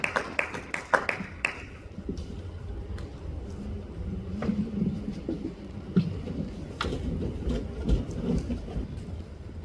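A church congregation applauds during an evening intercession gathering as the pastor is called forward, with sharp claps bunched at the start, then a steadier crowd murmur and scattered clapping through the rest.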